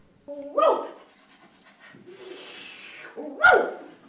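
A dog pants in quick breathy bursts between two sharp barks, close by, with short whiny vocal sounds around them.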